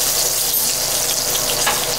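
A ribeye steak sears in a hot pan, giving a steady, bright sizzle with fine crackling throughout and no talking.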